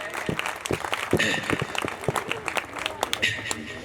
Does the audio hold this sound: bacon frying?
no